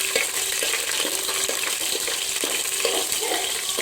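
Spices and curry leaves frying in hot ghee over a lowered flame: a steady, bright hiss and crackle with small spattering pops throughout, close and fairly loud.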